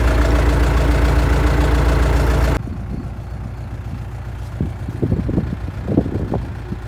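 A tractor engine runs at full throttle in four-wheel drive while pulling a seedling planter to set cabbage seedlings in a field. A loud close roar drops abruptly to a lower rumble, with scattered knocks and clatter from the planter.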